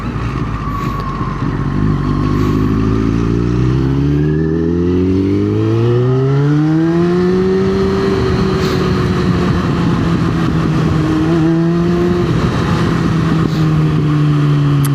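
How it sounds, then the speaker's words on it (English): Heavy road traffic with cars and motorcycles, close and loud: a motorcycle engine revs up and climbs through several gears, with other engines droning steadily underneath for the whole stretch. "The traffic is so bad."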